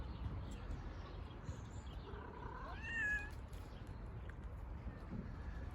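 A stray street cat meows a few times, short rising calls in the middle of steady outdoor background noise, with quiet human sounds nearby.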